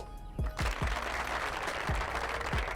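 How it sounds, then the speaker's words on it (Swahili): An audience at a Kenyan political rally breaks into applause, a broad wash of clapping that swells and holds, with booming thuds from a loudspeaker and a voice over it. "Pigeni makofi."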